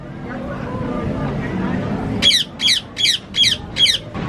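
At Costa Maya, Mexico, a bird lets out five loud, evenly spaced harsh squawks close by, following a stretch of background crowd murmur and engine-like rumble.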